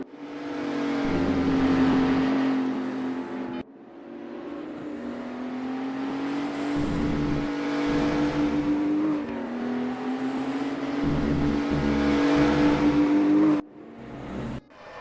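Race cars in the PHSR Widowmaker Series rev their engines during warm-up, producing loud sustained droning and rising pitch sweeps, with clear breaks between throttle pulls and a steady close-up roar throughout.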